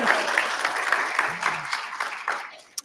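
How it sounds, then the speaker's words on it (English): An audience at an ex-Jehovah's Witness gathering in Sydney gives a steady round of applause, a close, even patter of many hands that fades slightly toward the end. "Round of applause for Jessica."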